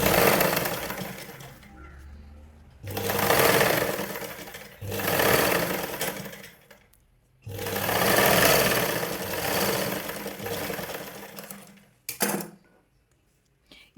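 A sewing machine stitches blouse lining in several separate bursts of a few seconds each, a close, even motor whirr broken by brief silent pauses. A short clatter comes near the end.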